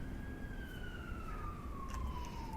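An emergency siren passes outside with a single wailing tone that slowly slides downward, moderately faint and distant over a low background rumble.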